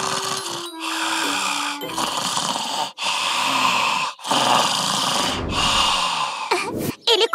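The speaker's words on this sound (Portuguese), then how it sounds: "Começou a roncar assim que colocou a cabeça no chão." A cartoon character snores after falling asleep on the ground in a land of clouds, loud rhythmic snores with breathy snorts in several long cycles, ending in a brief clattering burst.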